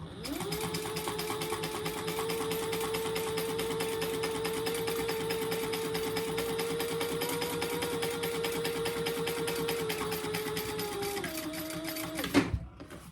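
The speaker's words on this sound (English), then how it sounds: "we'll top stitch on the front slip pocket at 8" Sewing machine topstitching the front slip pocket of a crossbody bag, running in one steady, continuous close-up burst for about eleven seconds before slowing and stopping with a brief clunk.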